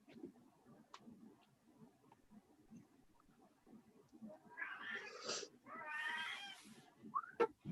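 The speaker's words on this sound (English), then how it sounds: "I heard a cat somewhere." A cat meows several times in a room, two drawn-out cries close together followed by a short higher call, over a quiet background with faint clicks.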